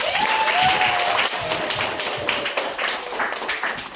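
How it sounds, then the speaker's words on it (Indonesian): A Grade 10 classroom of students claps together at the end of a lesson, a lively burst of applause that softens into scattered, uneven claps; a faint whistle-like tone glides down near the start. "Terakhir sekali tepuk tangan untuk 10A."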